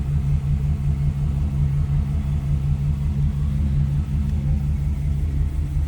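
A 1956 Ford Customline four-door sedan's engine idles steadily up close, a continuous low rumble with a faint mechanical hum throughout and no voices.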